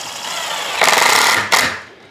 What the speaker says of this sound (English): Then I want to make sure I pre-drill my holes and put screws in all four positions.